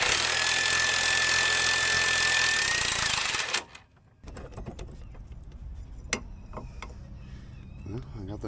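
A loud pneumatic impact tool hammers steadily on a rusty control arm nut on a Jeep XJ, then cuts off, leaving scattered clanks and metal taps from tools.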